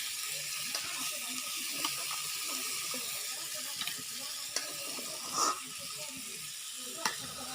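Fish frying in a pan with onions, a continuous close crackling sizzle with occasional small pops and clicks, fairly steady throughout, no talking.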